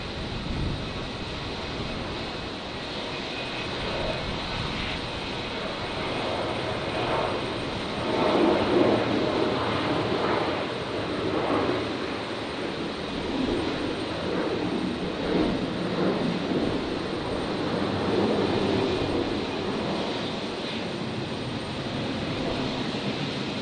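Qantas airliner rolling down runway 01 right at Brisbane, bound for Auckland, on a stormy night: a sustained distant jet roar that swells midway and holds steady, with no talking.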